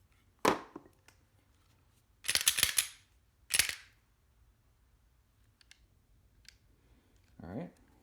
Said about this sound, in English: Before you do this swap, I'm gonna unload the weapon.